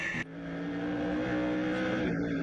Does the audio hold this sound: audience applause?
no